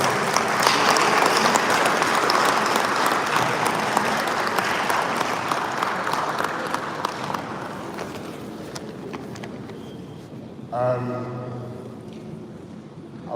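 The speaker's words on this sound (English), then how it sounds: "Can we please give another round of applause?" Applause from the audience at a traditional rulers council session in Akwa Ibom, dense clapping sustained for several seconds before it thins and fades, followed by a brief voice near the end.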